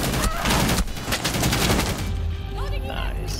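Rapid gunfire in Rainbow Six Siege on the Coastline map, a dense burst of loud shots filling the first two seconds, then tapering into quieter game sounds with a voice speaking over it.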